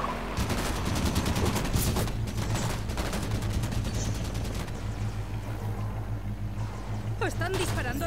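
Dense, continuous gunfire and bursts from Halo 5 co-op gameplay, loud rapid shots layered over rumbling vehicle and battle noise, with voices talking throughout.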